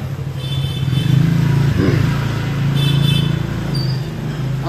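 A motorcycle engine runs close by with a steady low drone that swells slightly about once a second, plus a brief rise near the middle, and no one talks over it.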